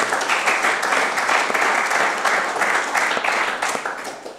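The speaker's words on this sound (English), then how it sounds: "I think a round of applause" An audience at a cricket supporters' question-and-answer event breaks into steady applause, a dense wash of clapping that holds throughout and tapers slightly at the end.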